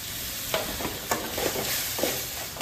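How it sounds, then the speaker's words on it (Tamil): Chopped tomatoes tipping into a hot pan of jackfruit curry base, giving a few soft sizzling bursts and stirring scrapes over a steady close-up frying hiss. "வெட்டி வச்ச தக்காளியை நான் போடுறேன்"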